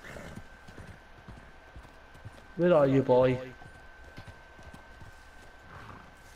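Horse hooves clip-clop steadily in the Red Dead Online video game, a soft rhythmic trot running through the clip under background ambience, while someone speaks briefly in the middle.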